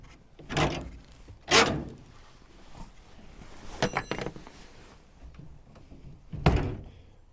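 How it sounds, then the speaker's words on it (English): A frozen hutch door in -12 degree cold is forced open: several separate hard knocks and thuds, followed by a scraping rattle and a final solid thump, close by with quiet gaps between them. "the door was frozen as well"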